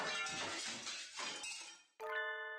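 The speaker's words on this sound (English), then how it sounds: "Some glass object splinters with a monumental crash behind us as we make for the exit." Glass object shattering in the video game Hatoful Boyfriend: Holiday Star, a loud splintering crash that fills the first two seconds and cuts off, followed by a bright sustained chime.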